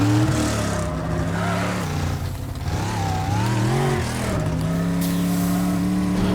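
A getaway car in the video game Teardown is driven fast, its engine note surging and dipping with gear changes, loud and steady throughout with no speech over it.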